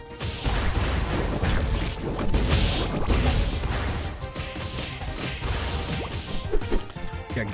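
A car in the video game Dodgeball Academia ploughs through objects in a parking lot, giving repeated loud crashes, whacks and swooshes in a busy, continuous flurry with no talk.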